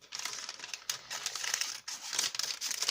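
Wrapping paper crinkles and crackles up close as a gift package is opened by hand, in continuous rustling bursts with brief pauses.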